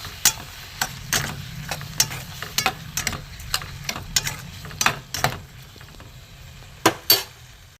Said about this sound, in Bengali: আদা গ্রেট করা এখানে বিট লবণ দিয়ে আমি এটা ঘেটে দেবো